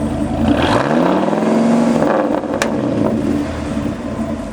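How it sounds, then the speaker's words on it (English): The V10 engine of a Dodge T-Rex six-wheeled truck runs close by, a loud, deep rumble that rises in pitch as it revs and then settles back toward idle. "That's that V10, 500 foot-pounds of torque, 350 horsepower."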